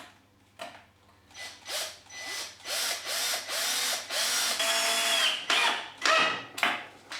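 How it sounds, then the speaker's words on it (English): A screw being driven into the corner of a wooden garden gate: a run of close, whirring drill bursts with pauses between them, growing steadier and longer, then a few short final pulses. "now just going to put a screw in this corner to hold it together."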